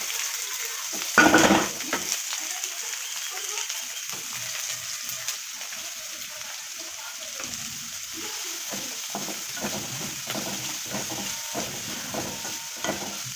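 Onions fry in a home kitchen pan with a steady, close sizzle, broken by scraping stirs and a sharper clatter near the start; no one speaks.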